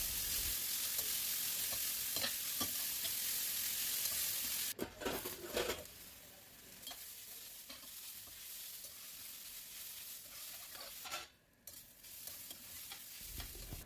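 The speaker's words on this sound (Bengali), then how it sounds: "সব বিটগুলো দিয়ে ওর সঙ্গে লবণ ও হলুদ দিয়ে একটু নাড়াচাড়া করে 5 মিনিটের জন্য ঢাকা দিয়ে" Beetroot frying in mustard oil with salt and turmeric: a loud, steady close sizzle that turns quieter and sparser partway through, with occasional stirring scrapes and no voices.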